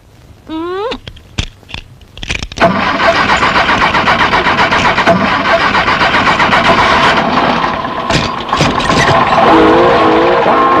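A car engine cranks in a few short bursts, then catches and settles into a loud, steady idle that runs to the end, with no talking.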